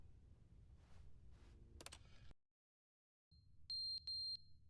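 Loud electronic alarm beeps from the video game The Stanley Parable: Ultra Deluxe, a sudden cut to silence followed by a steady tone with three sharp, piercing beeps over a low background hum, after some faint earlier noise.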